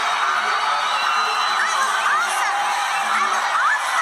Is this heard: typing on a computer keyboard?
no